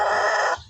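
A large red rooster gives a short, loud, close crow with a tonal, harmonic call that cuts off abruptly after about half a second.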